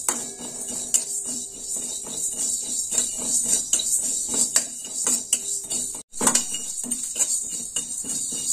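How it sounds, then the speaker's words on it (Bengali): Coriander and cumin seeds dry-roasting in a dry wok, with repeated metallic scraping and clinking of a utensil against the pan in an irregular rhythm, fairly close and loud, with a brief gap partway through. "ধনে জিরেটা শুকনো কড়াই ভেজে নেবো।"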